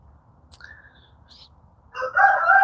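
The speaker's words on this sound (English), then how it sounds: "He is crowing away." A rooster crows on a homestead, a short, moderately loud call rising at the end after a quiet stretch with faint background noise and a few brief chirps.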